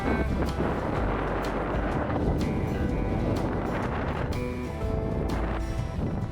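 Wind buffeting the microphone on a scenic road trip ride in Kerala, a loud, continuous roar with gusty thumps and rumble throughout.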